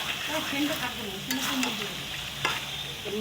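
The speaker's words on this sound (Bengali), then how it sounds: "মিট মশলা দিয়ে এবার কষাচ্ছি" Meat is sautéed with meat masala in a pan, a close, continuous sizzle with the scrape and clatter of a stirring spatula and a few sharper knocks against the pan.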